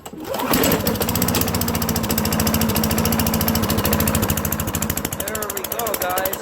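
A 15-year-old lawn mower engine catches and settles into a steady, fast-pulsing low idle, loud and close throughout, with the chugging rhythm continuing unbroken for several seconds.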